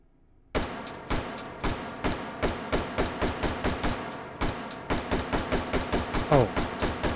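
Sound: new gun firing in Hot Dogs, Horseshoes & Hand Grenades VR game

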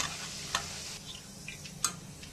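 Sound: deep-frying roasted chana dal for poha chivda

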